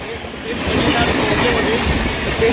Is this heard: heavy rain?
no